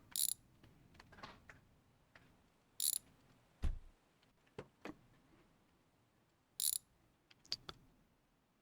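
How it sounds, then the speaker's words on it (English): A ratchet works on the trunk bolts of a BMW E36, giving sparse, separate metallic clicks and clunks with quiet gaps between them, close to the listener. "Let's get this trunk unbolted."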